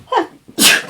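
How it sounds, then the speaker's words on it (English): A single loud, close sneeze with a short sharp intake followed by a bright explosive burst, indoors during a paper-crafting session. "I could feel that sneeze coming"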